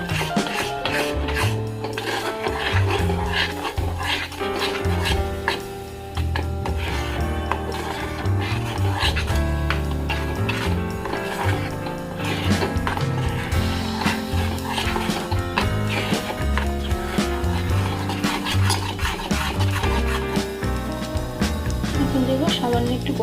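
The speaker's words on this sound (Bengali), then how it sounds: "এটা পিউরিটা দিয়ে দিচ্ছি, ভালো করে মিশিয়ে নেবো দুটো" A spoon stirs vegetable puree for baby food in a pot, making a continuous close rubbing and scraping sound with soft clinks, while a person talks over it.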